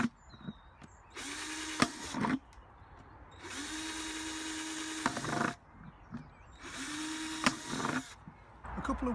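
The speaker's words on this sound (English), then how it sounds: "I'm drilling these buckets to make drainage holes in the bottom" A power drill bores drainage holes into the bottoms of plastic buckets in three long whirring bursts, each spinning up and cutting for a second or two, separated by quieter handling clatter.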